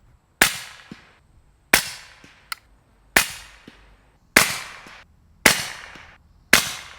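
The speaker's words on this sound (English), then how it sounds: "we're going to shoot them, let you guys see exactly what we're looking at for sound performance side by side with the Wolfpack Armory and the AB suppressors" Six suppressed rifle shots in 300 Blackout, fired through Wolfpack Armory and AB suppressors, each a sharp loud crack with a short decaying tail, evenly spaced about 1.3 seconds apart outdoors.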